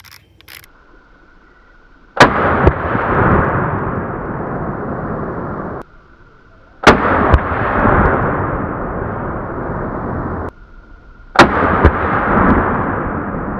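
Three loud, close shotgun blasts from a Mossberg 835 Ulti-Mag turkey gun, spaced several seconds apart. Each sharp report is followed by a long, fading echo, with quiet gaps between shots.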